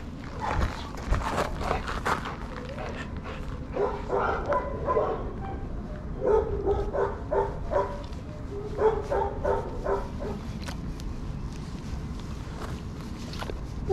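A dog in a shelter kennel gives a few scattered barks amid footsteps and kennel noise, moderately close, with quiet gaps between outbursts.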